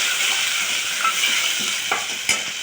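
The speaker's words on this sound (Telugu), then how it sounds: "కొద్దిగా అల్లం, ఒక స్పూన్ పసుపు వేసుకొని కొద్దిగా కలుపుకోవాలి." Ginger and turmeric stirred in a hot frying pan, a steady bright sizzle with a few soft scrapes of the spoon against the pan, close up and without voices.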